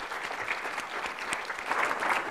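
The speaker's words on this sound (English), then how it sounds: "a round of applause for our definitions panel" An audience applauds a definitions panel at a conference session, steady broadband clapping from a room full of people, fairly even throughout with a slight swell near the end.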